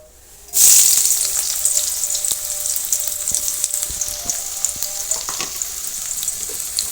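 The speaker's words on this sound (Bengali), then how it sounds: "এখান থেকে কিছুটা পেঁয়াজ নিয়ে আমি বেরেস্তা ভেজে নেবো" Chopped onions dropped into hot mustard oil to fry as beresta for chicken biryani, a sudden loud burst of sizzling that settles into a steady crackling fry, with occasional stirring taps.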